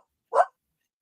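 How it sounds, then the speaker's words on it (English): A dog gives a single short bark, loud and close, with silence on either side. "It's the dog."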